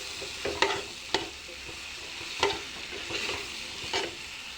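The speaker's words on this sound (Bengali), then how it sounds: "এখন লতি দেব, আলু দেব, পেঁয়াজ দেব, মরিচ দেব। এখন নাড়াচাড়া করে" Lotus stems, potatoes, onions and chilies frying in a pan, with a steady sizzle under scattered scraping stirs of a spatula, a few sharper clacks standing out, no voices.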